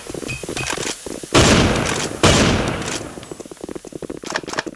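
Video game gunfire in a combat shooter, two loud sharp bursts of shots close by, each tailing off briefly, separated by about a second, with quieter game sounds around them.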